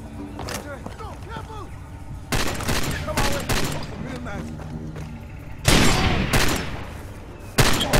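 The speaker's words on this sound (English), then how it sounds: "That's a big gun, dude. It does a lot of damage. It's heavy machine gun." Heavy machine gun fire in the video game Far Cry 2 during a scrapyard shootout: loud bursts of rapid shots and booming impacts in several waves, with game music and voices underneath.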